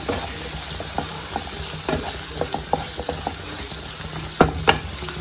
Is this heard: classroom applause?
no